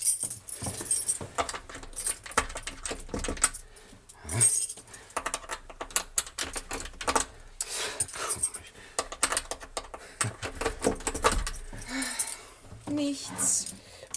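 A bunch of keys jangles and clinks repeatedly in a German radio play, metallic rattles coming in irregular bursts close to the microphone, with voices speaking between the jingles.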